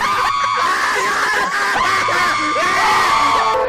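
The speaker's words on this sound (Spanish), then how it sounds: "escuchamos gritos de fondo" Loud, sustained screaming from several voices mixed with yells and wails fills an animated film scene, continuous and harsh throughout with no pause.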